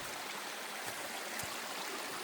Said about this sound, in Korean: 이제 저 아래는 아까 물소리가 컸잖아요.